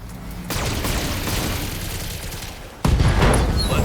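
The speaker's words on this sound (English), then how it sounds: "Both ammo explosion, ammo destroyed, turret destroyed, everything destroyed, pilot dead." In the BattleTech video game, a mech's ammunition cooks off in a rolling barrage of rapid explosions and gunfire-like bursts, sustained and loud, then swelling into a heavier blast near the end with no speech.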